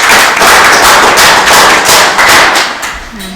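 A school podcast audience claps for two guests, a loud burst of rapid, dense hand claps that keeps going for about three seconds and then tapers off at the end.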